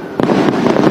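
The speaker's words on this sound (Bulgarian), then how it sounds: "каква хубава заря!" New Year's midnight fireworks welcoming 2025 go off nearby: loud, sharp crackling bursts in a quick rapid cluster, with no voices.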